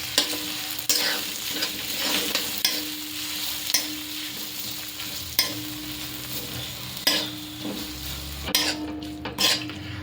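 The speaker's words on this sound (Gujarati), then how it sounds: "આને હું ઘીમાં બરાબર સાતળી લઈશ" Grated green turmeric sautéing in ghee over a very low flame, a continuous gentle sizzle broken by repeated spoon scrapes and clinks against the pan, close and fairly quiet.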